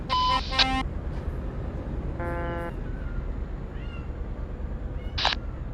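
A cat meows briefly against a low background hum. Short electronic beeps come before it, and a faint high chirp follows.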